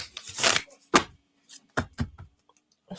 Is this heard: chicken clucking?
no